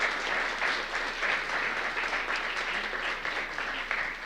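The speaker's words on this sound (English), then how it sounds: "Please join me in giving them a warm round of applause." A seated audience gives warm, steady applause for panel guests at a civic forum, a dense even wash of many hands clapping with no speech over it.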